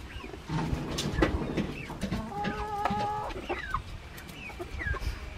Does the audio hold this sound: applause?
no